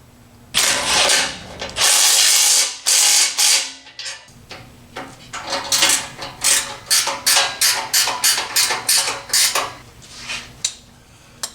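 Work on a '65 Buick Skylark GS as a part is tightened: loud metallic rattling and grinding bursts, then a quick series of close ratchet-like clicks in steady rhythm.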